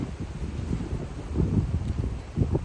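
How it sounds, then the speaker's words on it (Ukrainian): Steady wind buffeting and gusting through the windows of a picnic tent, a low rumbling whoosh against fabric that swells and fades with no voices. "Тут вікна, через які заливає дощ і задуває вітер."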